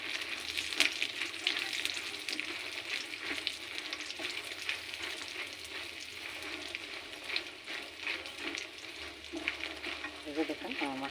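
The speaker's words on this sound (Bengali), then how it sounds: "মাখানাটা এখন আমি ঘিয়ের মধ্যে ভাজা করে নেব।" Makhana (fox nuts) frying in ghee in a pan, a steady close crackling sizzle with stirring scrapes running throughout, no voices over it.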